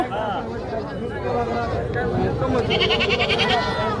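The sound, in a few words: goats bleating at a livestock market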